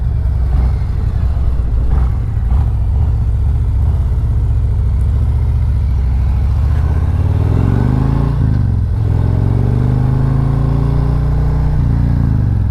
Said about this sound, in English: Downshift, make you swerve around that imaginary vehicle.